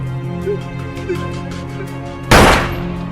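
A single loud gunshot in a film scene, a man shot in the head at close range, bursting sharply after a low droning background with faint muffled sounds, then decaying over half a second.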